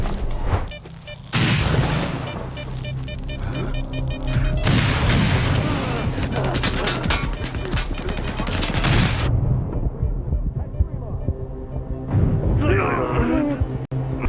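Gunfire in the video game S.T.A.L.K.E.R. 2, with dense bursts of shots and booms running loud and continuous for about nine seconds before dropping off, followed by quieter game ambience and a brief clatter near the end.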